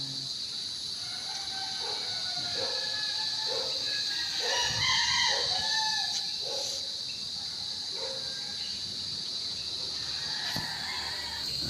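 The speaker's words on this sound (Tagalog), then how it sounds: "Yung mga ibon." Outdoor birdsong on a quiet, breezy rural walk among houses and trees, with a rooster crowing and fowl clucking at moderate distance over a steady bed of insect and cricket buzz.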